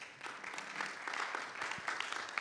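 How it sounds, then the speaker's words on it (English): A workshop audience applauds the ambassadors at an internet governance forum, a steady, moderately distant patter of many hands continuing for a couple of seconds in a room. "this does call for a round of applause for all the ambassadors here"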